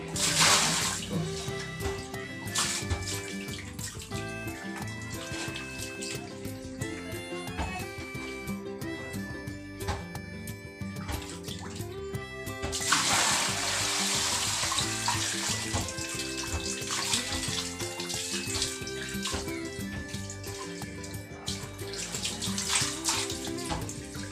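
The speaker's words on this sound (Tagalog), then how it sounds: "Try na natin kung wala na siyang singaw. Let's go, ilubog na natin sa tubig." A deflated basketball being restored is pushed under water to check for leaks, giving a steady rushing, splashing wash of water throughout, with music playing underneath.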